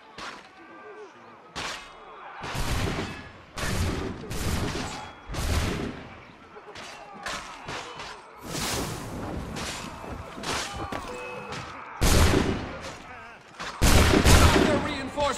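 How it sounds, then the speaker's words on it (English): Musket volleys in an Assassin's Creed III battle, loud irregular bursts of shots and booming blasts repeating throughout, with shouted voices mixed into the din. "They're firing down on us!"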